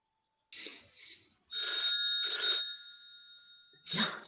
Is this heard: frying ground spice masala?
no